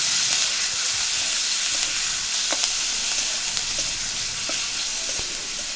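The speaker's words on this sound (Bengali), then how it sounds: "পেঁয়াজটা একটু ভালো করে ভেজে নেব। পেঁয়াজ বাটা দিয়ে দিচ্ছি" Onion paste fries in a hot pan for an egg curry, a loud, continuous close sizzle with occasional faint scrapes of stirring.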